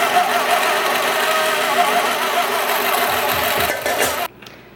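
A grain grinder on its fine setting runs with a steady, loud motor drone while milling dock seeds into flour, then abruptly cuts off near the end.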